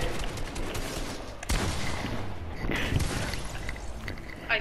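Shotgun blasts in the video game Fortnite, a few sharp bursts that stand out over busy game noise, loud and close, with a sudden crack around the middle.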